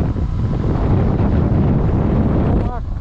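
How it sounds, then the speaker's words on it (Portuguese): Heavy wind buffeting a microphone while riding a Twister 250 motorcycle on a dirt road in Serra da Canastra, a loud continuous rumbling rush that roars throughout with no letup. "Agora levei um vento na cara aqui."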